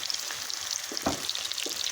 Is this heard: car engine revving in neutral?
no